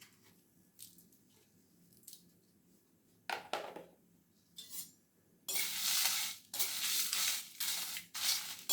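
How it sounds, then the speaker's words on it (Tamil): Whole spices for a star gooseberry pickle are dry roasted in a pan without oil, giving faint scattered rattles and scrapes that build into a louder, steady rustling scrape of stirring in the final seconds. "இப்போ இது எல்லாமும் ட்ரையாக வறுத்துக்கலாம், எண்ணெயெல்லாம் விட வேண்டாம்"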